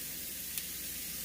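Steak sizzling in a hot pan, a steady broad hiss with a tiny crackle pop partway through, no talking.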